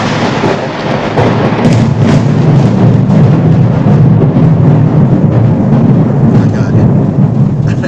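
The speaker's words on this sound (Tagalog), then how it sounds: "Ang lakas ng kidlat." Heavy thunder rumbles continuously through a loud thunderstorm, with rain audible underneath and sharper cracks breaking through the steady roar.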